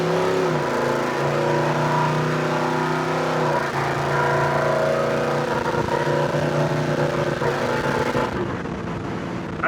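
A Chevy Apache truck engine idles with a low steady rumble, then picks up a light blip of throttle that raises its tone before settling again, heard close and alone.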